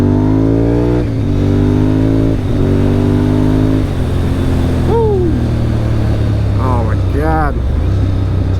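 A Honda RC51 sport motorcycle engine revs and drones loudly, its pitch rising and falling as it shifts through gears, with a brief chirp of a bird in the background.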